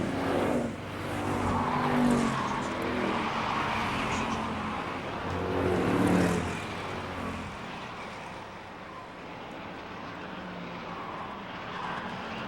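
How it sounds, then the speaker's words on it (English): Street stock race cars roar around Mesa Marin Raceway in a green-flag race, engines swelling loudly as the pack passes, then fading to a distant drone. "We're going back to green flag racing, and Alexander, Newsom, Burdick, 1, 2, and 3"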